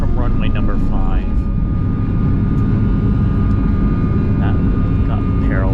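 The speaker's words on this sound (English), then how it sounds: "That got parallel 737s taking off." Boeing 737 jets taking off on parallel runways at Chicago, heard from inside an airliner cabin as a constant low engine roar, with voices talking over it.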